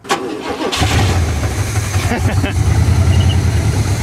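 A race car engine cranks and catches, then settles into a loud, rough idle with a low rumble, heard close up.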